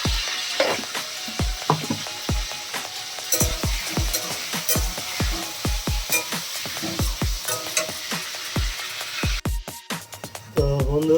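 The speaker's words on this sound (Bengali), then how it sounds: "আমার আলু ভাজাটা মোটামুটি কমপ্লিট" Potatoes sizzling steadily in a pan with salt added, punctuated by frequent rhythmic scrapes and knocks of a spatula stirring, close and fairly loud with no voices.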